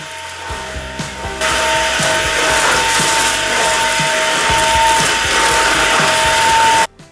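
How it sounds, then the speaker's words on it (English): A vacuum cleaner hoovering hard floors in a home runs loud and steady, with clicks and knocks as the head bumps along the floor, then stops abruptly. "I'm going to repeat it in here and just hoover all over the hard floors"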